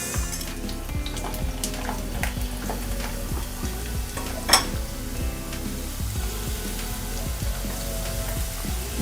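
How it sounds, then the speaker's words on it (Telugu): Potato fingers deep frying a second time in hot oil, a steady dense sizzle with bubbling throughout and one brief louder clink midway; no voices. "చల్లారిపోయాయి కదా, ఇప్పుడు మనం మరొకసారి డీప్ ఫ్రై చేసుకుందాము."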